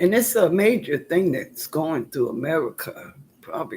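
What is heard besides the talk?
No everyday noises stand out.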